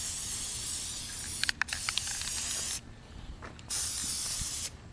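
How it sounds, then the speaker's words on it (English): Aerosol spray hisses in two long bursts outdoors, coating pumpkins, close and steady, separated by brief pauses with a few light clicks and rattles. "you're just going to spray each one of them"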